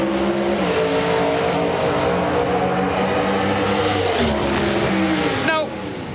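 A Pro Stock Truck drag racing run at the 1998 NHRA Revell Nationals in Dallas, engine roaring loud and steady with rising and falling pitch and gear changes, then a sharp drop-off near the end, with a commentator's voice over it.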